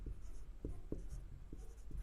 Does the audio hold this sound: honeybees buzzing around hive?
no